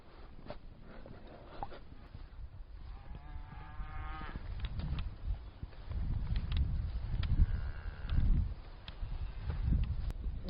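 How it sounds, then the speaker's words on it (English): Black cattle with young calves in a field on a still day, lowing repeatedly at moderate distance with several moos rising and falling over a quiet outdoor background. "Just passing a field full of black cattle."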